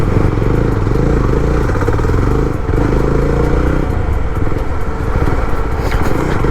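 A Jawa 42 FJ 350 motorcycle rides along at low rpm in high gear, its engine a loud, continuous throbbing rumble with mechanical clatter, close and alone without talk.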